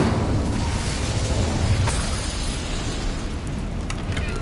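The Incendio fire spell in Hogwarts Legacy bursts out as a loud, continuous roaring whoosh of flame, dense and rumbling for several seconds without pause.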